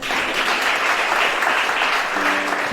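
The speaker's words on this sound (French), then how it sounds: "Acclame Shana." Audience applause at a Gabonese prophetic church service, a dense, steady clapping crowd sustained evenly throughout, loud and close.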